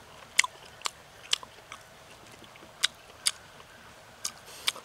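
Biting and chewing into a spicy Peking-style roast duck leg, a series of crisp, close crunches spaced irregularly over a few seconds, fairly quiet, with no talking.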